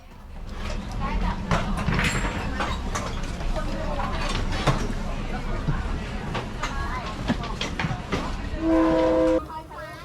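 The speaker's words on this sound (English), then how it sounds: "moving their stalls out of the way as the train passes" A train rolls slowly through the Maeklong Railway Market nearby with rumbling and clanking, people chatter around it, and a horn sounds briefly near the end.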